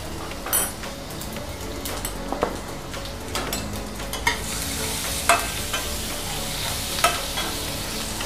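Crushed ginger and garlic frying in a hot tempering of mustard seeds, cumin and asafoetida, a steady close sizzle broken by several sharp stirring clinks of a spoon against the pan.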